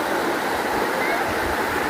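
The Nambalan River rushes and gurgles in a steady, loud wash of flowing water close by, filling the whole two seconds without pause.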